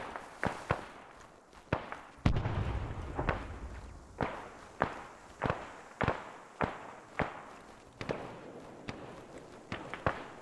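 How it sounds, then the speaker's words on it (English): Flares and gunfire in the military shooter ArmA 3, a steady series of sharp distant cracks and pops roughly every half second, with a heavier rumbling thump near the start. "That's some fire to the southwest. It's a flare."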